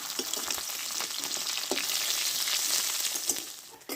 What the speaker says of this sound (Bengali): মাছটা এক পিট ভাজা হয়ে গেছে এবার আর পিট ভেজে নেবো আমি